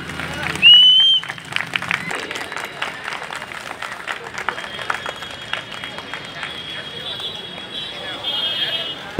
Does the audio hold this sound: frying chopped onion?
no